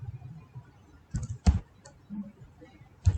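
Typing on a computer keyboard: a few sparse, quiet key clicks and taps spaced irregularly, close to the microphone, in an otherwise quiet room.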